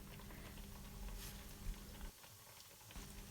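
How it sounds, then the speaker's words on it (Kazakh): Baursak dough frying in hot oil, a steady dense sizzle and crackle that continues throughout, close and even, with a brief dip in the bubbling partway through. "Қызып тұрған майға бауырсақтарды шетінен салып пісіріп аласыздар."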